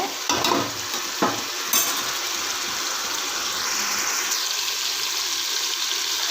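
Chopped ripe tomatoes fry in oil in a pan with a steady, close hiss, broken by a few scraping stirs of a spoon early on; no one speaks.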